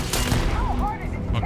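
Gunfire in the sci-fi shooter Starfield, a dense, sustained volley of shots packed together over a steady background of game sound, continuous and fairly loud throughout.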